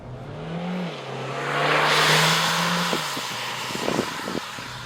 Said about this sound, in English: when you're in a twisty road like this, just put it into sport traction and give it a little bit of gas.